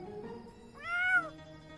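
A cat gives a single clear, rising-and-falling meow in the middle, close and fairly loud, over a quiet background with faint low tones.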